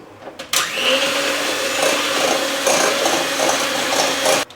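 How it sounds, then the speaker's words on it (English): A handheld or stand electric mixer beats sugar and eggs together for a coconut walnut cake batter, a steady close whirring motor drone that starts abruptly after a brief clatter and runs continuously for several seconds before cutting off. "you want to mix that in the handheld mixer or standing mixer"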